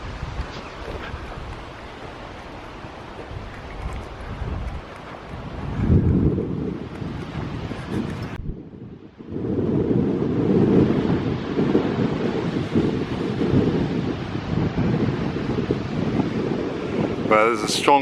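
Strong outdoor wind buffets the microphone with heavy, rumbling gusts that swell and dip throughout, loud and continuous, with a sharp drop in the middle.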